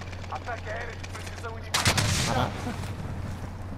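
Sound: gunfire in a video game

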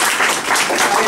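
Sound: applause for the artist Furio

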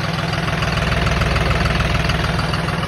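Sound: tractor engine idling

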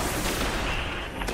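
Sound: machine gun fire in the video game Destiny

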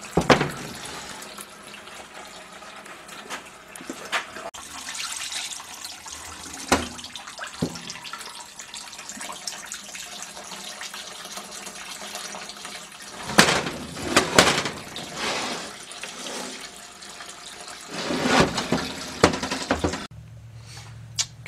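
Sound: flushing Willys MB T84 transmission part with liquid

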